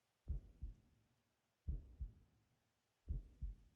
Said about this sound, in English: Nice little heartbeat effect.